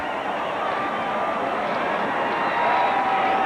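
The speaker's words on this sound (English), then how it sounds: "Oh, and the crowd gets quiet." Large crowd at a 1988 Alabama vs Kentucky college football game, a broad steady roar that holds at an even level throughout, swelling slightly near the end, with no clear talk over it.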